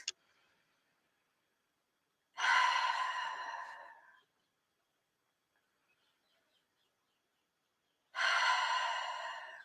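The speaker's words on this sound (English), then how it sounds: "take a couple of deep breaths in and out" Two long, deep breaths, each a slow, airy rush, drawn during a guided relaxation session and separated by several seconds of near silence, close and fairly loud with no talking.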